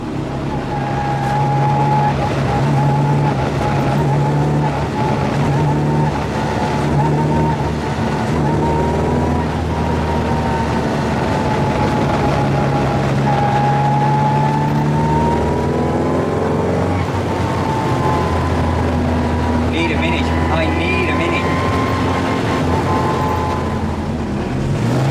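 A 1275 S Mini Cooper engine drones steadily from inside the car while driving, a loud, continuous hum that shifts pitch slightly with speed, with some speech faintly mixed in.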